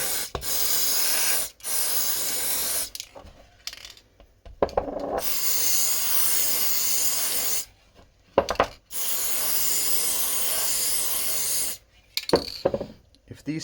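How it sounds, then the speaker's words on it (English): Several bursts of Teflon dry lubricant aerosol spray hiss close by, each lasting a second or more, separated by short pauses with faint handling clicks. "I'm going to use Teflon spray or any dry lubricant you have."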